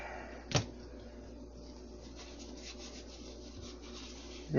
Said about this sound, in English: Got our gearbox put together. Wipe her down.